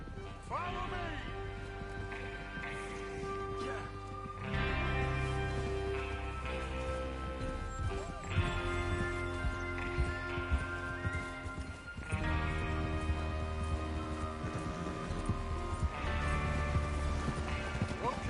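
Horses gallop in the video game Red Dead Redemption 2, with a steady stream of hoofbeats running under music and intermittent talk across the scene.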